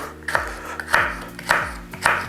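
Four crisp knife chops through a bell pepper on a cutting board, evenly spaced about half a second apart, close and fairly loud, with no talking.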